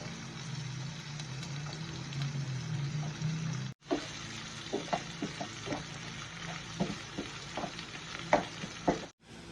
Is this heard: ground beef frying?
yes